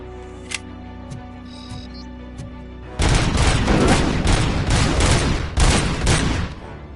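Heavy sniper gunfire in the RoboCop: Rogue City video game, a sudden loud barrage of repeated shots and impacts that starts midway after a quieter stretch and keeps hammering close by.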